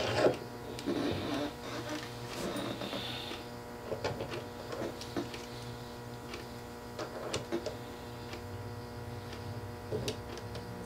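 A lathe spins the spool of a Van Staal fishing reel to wind on line, giving a steady mechanical whir with faint repetitive ticking throughout, moderately close and without talk.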